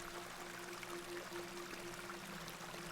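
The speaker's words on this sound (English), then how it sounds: "This is a lovely little beck. It's where we get our water, miss." A small beck flowing in The Excavation of Hob's Barrow, a soft, continuous trickle of running water heard faintly under a low, steady ambient hum.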